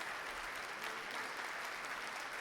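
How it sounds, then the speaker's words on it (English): The audience at the Crucible theatre applauds rapturously after a concert, a continuous, dense wash of clapping from a large crowd, steady throughout. "The Crucible audience rises as one, sending them off to rapturous applause."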